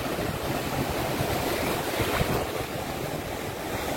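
Sea waves wash onto a beach on the Konkan coast, a loud, steady broadband roar of surf mixed with wind buffeting the microphone.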